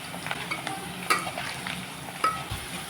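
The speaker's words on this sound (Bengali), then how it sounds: "আলুটাকে লাল লাল করে ভেজে নেব।" Potatoes seasoned with salt fry softly in a pan while a utensil stirs and scrapes them in a few light clinks and shuffles, quiet and close, with no talking.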